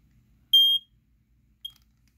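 A Firex model 120-107B smoke alarm gives a short, piercing high beep, followed a second later by a briefer chirp, in an otherwise quiet room.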